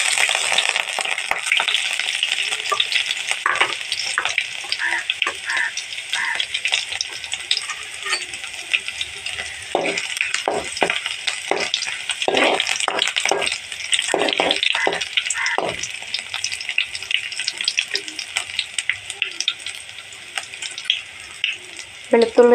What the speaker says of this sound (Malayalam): ഇനി അല്പം വെളുത്തുള്ളി പേസ്റ്റ് അതിലേക്ക് ആഡ് ചെയ്യുക.